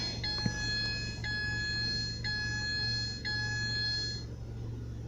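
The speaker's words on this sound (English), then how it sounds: "It's gonna beep at me because I don't have my seatbelt on" A seatbelt warning in a Ford Transit Connect chimes in a steady repeating pattern, four evenly spaced bright tones about a second apart over a low idling hum, then stops.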